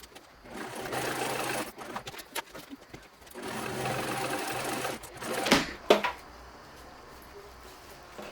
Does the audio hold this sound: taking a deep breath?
no